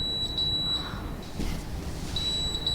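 An induction cooktop, switched on by a cat's paws, gives a thin high-pitched electronic beep that sounds, drops away, then returns as a sustained tone, quiet against a soft room background.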